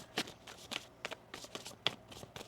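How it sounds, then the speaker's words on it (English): A deck of tarot cards being shuffled by hand, a series of crisp, quick riffling bursts spaced irregularly, close and fairly quiet. "One more shuffle."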